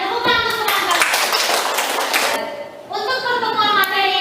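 Classroom applause for classmates after a student presentation, a dense burst of many hands clapping close by that fades briefly and then picks up again, with children's voices mixed in.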